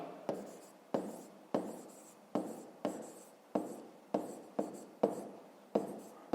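A pen writes on paper during a fifth-grade math exercise, making a quiet, close series of about ten short scratching strokes in a steady rhythm, each starting sharply and then fading.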